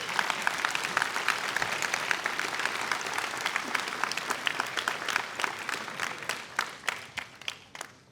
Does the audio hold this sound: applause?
yes